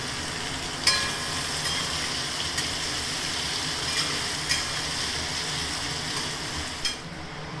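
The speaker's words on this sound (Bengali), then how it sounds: "পেঁয়াজটাকে এবারে একটু লাল লাল করে ভেজে নিই" Onions frying in a pan give a continuous even sizzle, with a few clicks of stirring spaced through it and no voices.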